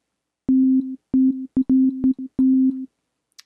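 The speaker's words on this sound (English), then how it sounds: "I've got up here sine wave" Ableton's Operator synth plays a pure sine wave tone in a series of short staccato notes at one pitch, clean and loud against silence.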